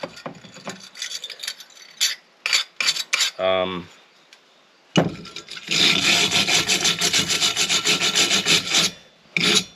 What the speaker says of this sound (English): flathead screwdriver and just open these up a little bit, because there's so much crud in there